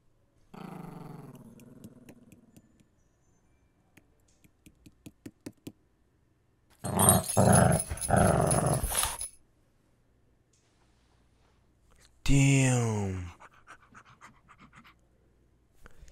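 A dog in a scary short film growls and pants in separate bursts: a low growl early on, a loud sustained rasping stretch in the middle, then a sharp closing snarl, with near-silence and faint clicks between.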